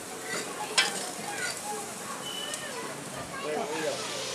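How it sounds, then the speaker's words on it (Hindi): Oil hitting a mix veg dosa on a hot griddle at a Delhi street stall, giving a steady close sizzle and crackle with some scraping, while someone talks over it. "अब फिर ऑयल डलेगा इसमें"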